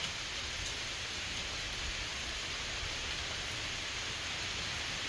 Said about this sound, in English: You can hear the rain hitting the leaves overhead.